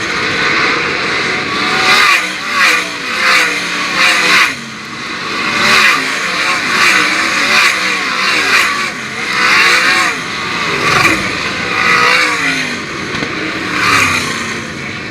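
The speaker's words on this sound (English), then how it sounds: "The car makes some noise for Craig Mintz." Race cars at Attica Raceway Park, a dirt oval, roar around the track in a loud, continuous engine drone with repeated rising and falling revs as the cars pass, with an announcer talking faintly at moments.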